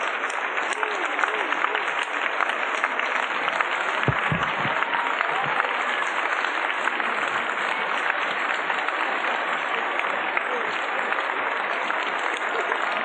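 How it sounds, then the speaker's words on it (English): An audience at an outdoor opera concert in San Francisco applauds and cheers continuously, a steady wash of clapping that stays at an even level throughout. "People on their feet clapping above their heads."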